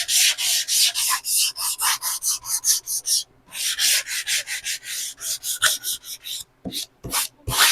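Wood being sanded flush by hand on a school memory box build, a steady run of close, raspy back-and-forth strokes with brief pauses between passes.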